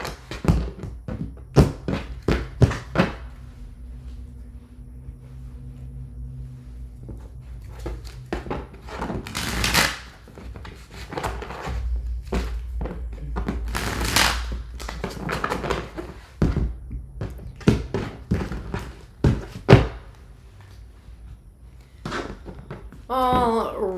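Tarot cards being shuffled by hand, a run of crisp riffling bursts and soft taps close by, with occasional card thuds on a table and brief pauses between shuffles.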